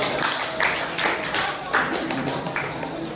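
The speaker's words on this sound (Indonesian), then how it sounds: "tepuk tangan untuk kelompok" A classroom of students claps for a student group, a loose, uneven patter of hand claps with a few sharper bursts, with murmured voices underneath.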